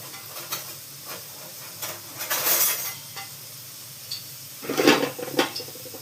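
Dried red chillies drop into hot tempering oil for a spinach dal, with brief bursts of sizzle and hiss alongside light stirring clicks and scrapes of a pan, fairly close and intermittent.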